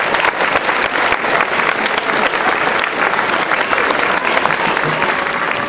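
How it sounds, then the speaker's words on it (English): Sustained audience applause at an energy efficiency award ceremony, greeting board members; steady dense clapping fills the room from start to finish at an even, loud level. "Give them a round of applause."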